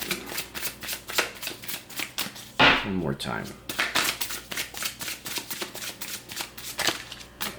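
A deck of cards is shuffled by hand for a card reading: a rapid run of crisp riffling flutters and taps, close and clear, with a voice speaking briefly partway through.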